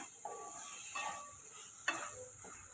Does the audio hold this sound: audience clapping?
no